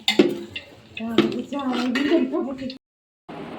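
Poha poured into a pan of fried onions at a busy wedding-day home kitchen: close clattering of metal utensils and cookware with scraping stirs under chatter, then a brief pause before the clatter resumes.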